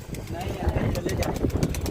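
Pigeons coo softly amid a busy low rumble of idling engine noise and nearby voices.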